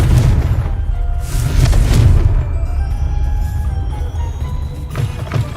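A Confringo spell exploding in the Hogwarts Legacy video game, a deep booming blast with a rumbling tail, followed by softer game ambience and a second thump near the end.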